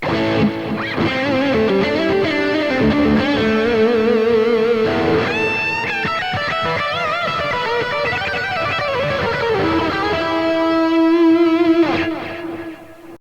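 Heavily distorted electric guitar through a BOSS GT-1000 plays sustained chords and single notes, with delay repeats trailing behind each phrase; loud and steady, no voices.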